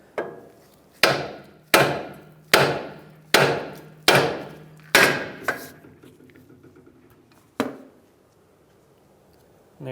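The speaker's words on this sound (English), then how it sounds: "we can go ahead and hammer down on our threaded portion here. So we're going to do that with a 5-pound sledge." A 5-pound sledgehammer hammers down on the threaded portion of an outer tie rod end on a 2007-2015 Mazda CX-9: seven loud, sharp metallic whacks in a steady rhythm, then a lighter rattle and one last strike after a pause.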